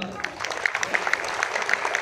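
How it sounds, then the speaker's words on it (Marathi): An audience applauds for Gauri at the Shri Gajanan Maharaj (Shegaon) Seva Pratishthan cultural festival 2025 in Maharashtra: dense, steady clapping from a crowd, moderately loud throughout, with a voice faintly present underneath. "जोरदार गौरीताईंसाठी टाळ्या वाजवा"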